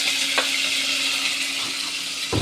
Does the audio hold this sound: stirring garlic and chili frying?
yes